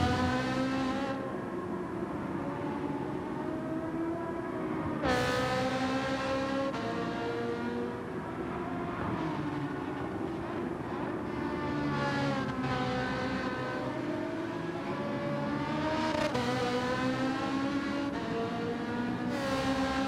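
A race car's engine in Gran Turismo 7 revs and shifts steadily through gears for a long stretch during an online daily race, loud and close, with sharp pitch drops at gear changes and no talk.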